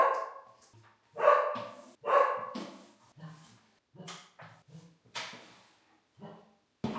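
A dog locked in a bedroom barks and yelps in short bursts, some loud and some softer, with muffled whines between them, sounding slightly enclosed.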